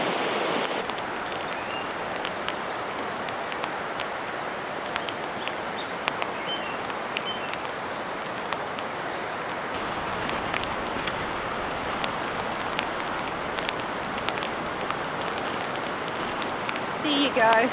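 Heavy rain pours steadily on open ground near a backcountry hut in New Zealand, a dense, even hiss that holds throughout with scattered louder drops and no speech.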